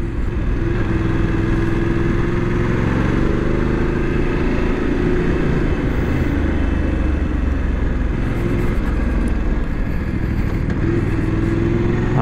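Voge 900 DSX adventure motorcycle engine heard while riding, a steady loud mid-range drone with wind rush that holds constant throughout, no talking over it.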